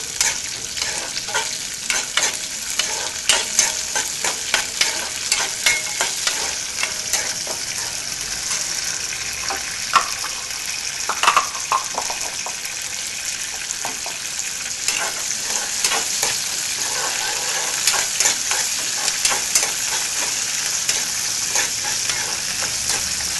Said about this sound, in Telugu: దూరగా వేయించుకోవాలి